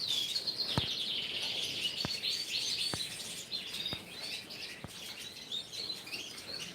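Small birds chirp in quick, high, fluttering bursts, fairly faint and continuous, while a few sharp isolated clicks or taps land about once a second beneath them.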